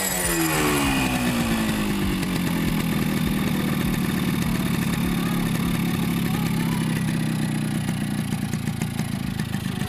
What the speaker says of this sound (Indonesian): Lagi pula ini kondisi motor masih dingin.